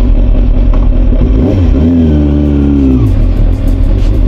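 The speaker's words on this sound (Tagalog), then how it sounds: "para marinig niyo ang tunog ng motor" A Kawasaki ZX6 motorcycle engine revs loud and close, rising sharply around the midpoint and holding a high steady whine before dropping back, over a constant rumbling base.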